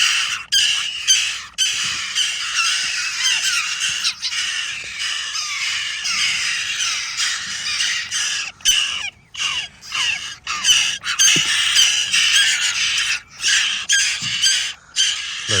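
Crow and magpie chicks squawk loudly and continuously while being fed, a dense, overlapping chorus of harsh, raspy begging calls up close with brief pauses, with no talking.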